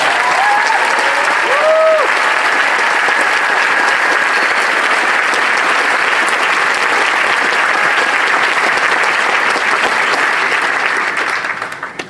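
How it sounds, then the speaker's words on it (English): Large audience at the 2018 Northfield Mount Hermon commencement giving the graduating class a long, loud, sustained round of applause with some cheering, fading slightly at the end. "please join me in giving a huge round of applause to our class of 2018"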